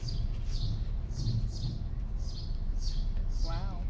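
At a comic convention panel, a voice imitates a sparrow with a series of about six short, high chirps at a regular pace over quiet background noise.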